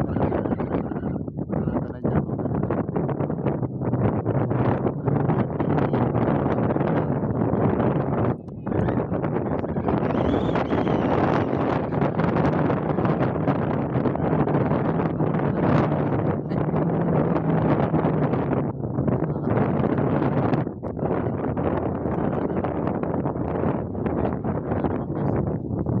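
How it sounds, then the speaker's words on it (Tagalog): Strong wind buffets the microphone in a loud, continuous roar with gusty surges, out on open water aboard a small fishing boat; faint voices are barely present beneath it. "Kahit mahangin guys"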